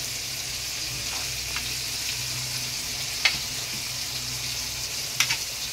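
Five kilograms of mutton being stirred into a spice masala in a large pot, a soft steady sizzle with a few sharp scraping clinks of the spoon, fairly quiet and without talk.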